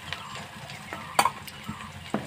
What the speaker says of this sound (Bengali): নাড়াচাড়া করার পর একটু ফাঁকা রাখবেন, পেঁয়াজগুলো ভাজা যায়।